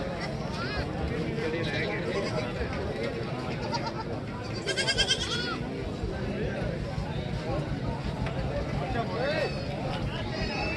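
Goats bleat here and there amid a busy outdoor goat market crowd, with people talking loudly nearby throughout.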